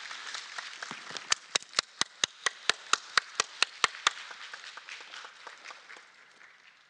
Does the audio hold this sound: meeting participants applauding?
yes